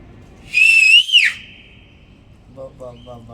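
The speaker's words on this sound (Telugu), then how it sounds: "మళ్ళా కదలాలంటే మళ్ళా ఒక విజిల్ అయ్యాలా అని అంటే అది బయలుదేరుతుంది" A person gives a single long, loud tonal whistle that rises and then falls, a signal for a bus to set off, and a low voice comes in right after it.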